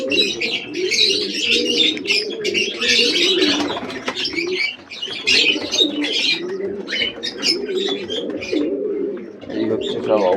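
Pigeons coo in repeated soft, throaty rolls close by, overlapping with chirps and occasional rustling, while a person talks intermittently among the birds.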